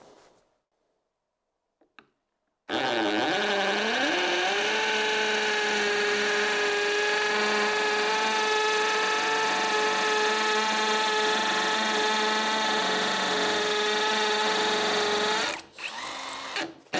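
A Parkside Performance PSBSAP 20 Li B2 cordless hammer drill bores into stone, a loud steady whine with a hammering rattle that holds for about thirteen seconds after a quiet start, then stops.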